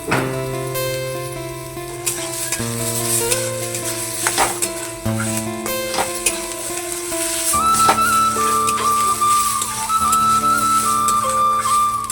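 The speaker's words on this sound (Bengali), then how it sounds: "এখানে পরিমাণ মতো জল দিয়ে দেবো" Water is poured into ginger paste frying in a pan, setting off a loud, close sizzle with stirring scrapes and clatter, then a steadier hiss.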